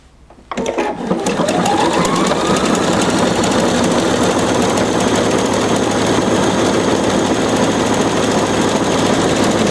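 A Pfaff 720 sewing machine stitches a buttonhole in a rapid, steady mechanical whir that starts abruptly after a brief pause and runs loud and continuous to the end.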